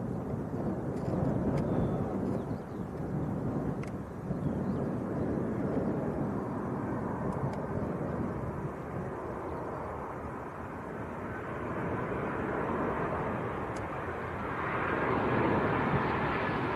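A Ryanair airliner arriving from Lanzarote at Leeds Bradford Airport, a broad continuous roar rising and falling over many seconds, with faint wind noise and no talking.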